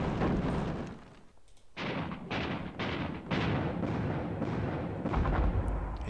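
Mortar explosions in the wargame Panzer Battles Kursk come as a series of five or six deep, rumbling booms in quick succession, loud and close together.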